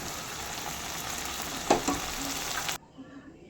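Pointed gourd and potatoes with turmeric sizzle steadily in a pan, with a couple of brief scraping stirs near the middle before the frying sound cuts off abruptly.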